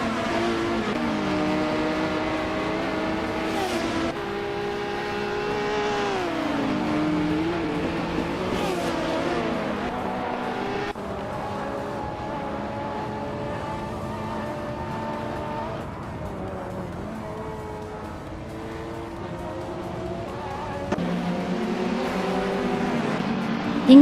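Race cars in a racing video game roar continuously, their engine notes rising and falling as gears shift, a steady loud drone layered with several cars running close together.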